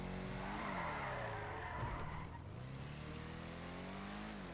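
Obey Tailgater S (Audi RS3) drifting in GTA 5 Online, with a continuous engine drone and sustained tire squeal swelling and dipping through a long slide, loud and unbroken.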